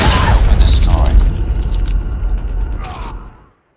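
A shock RC drone destroyed in a video game, heard as a loud, close booming blast with crackling debris and rumble that fades out over a few seconds.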